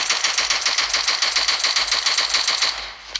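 An MK47 rifle on automatic fire in BGMI rattles out a steady, evenly spaced stream of close, loud shots for about three seconds before easing off.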